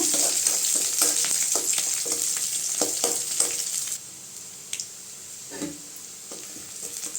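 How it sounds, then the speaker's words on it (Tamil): Onions sautéing in a pan for a beetroot and chana dal poriyal: a loud hissing sizzle with repeated spatula scrapes that eases off and grows quieter halfway through, a few stirring knocks later, no speech. "வெங்காயம் நல்லா வதங்கட்டுங்க"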